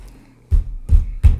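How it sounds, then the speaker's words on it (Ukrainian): Three heavy thumps of a hand hitting a desk, spaced about a third of a second apart, deep and close after a brief quiet start. "Удари по столу."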